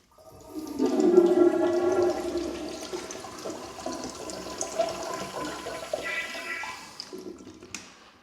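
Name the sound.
commercial toilet flushing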